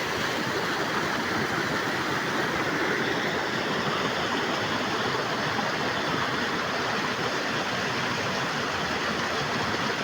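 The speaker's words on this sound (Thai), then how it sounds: "นี่คือน้ำตกเอราวันนะครับ" Erawan waterfall at Tambon Tabo, Ban Bang Khung, Phetchabun, pours with a continuous, even rushing roar, close and unbroken throughout with no voices.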